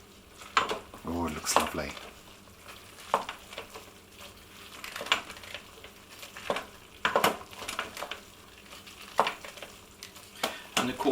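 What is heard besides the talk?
stirring tomato puree and yeast extract into vegetarian bolognese sauce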